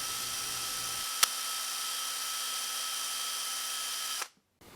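A power drill spins a bottle brush inside a used wine bottle, cleaning the walls and neck: a steady, loud high whine holds for about three seconds, with a sharp click near the start, then cuts off abruptly.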